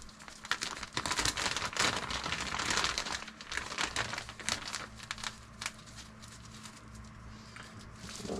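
A plastic all-in-one mushroom grow bag crinkles and rustles continuously as it is wiped down with isopropyl alcohol, dense close crackling that eases off later over a low steady hum.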